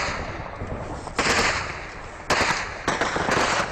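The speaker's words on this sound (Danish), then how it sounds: "der bliver skudt med nogle AK-47" AK-47 rifle fire in a combat zone in Afghanistan, sharp bursts of cracking shots in several separate clusters over a continuous noisy background, loud and fairly close.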